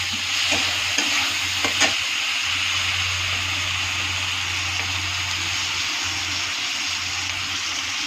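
Sugar frying in a pan while being stirred, a steady broad sizzle with a few soft scraping strokes near the start, continuous and fairly loud with no voices.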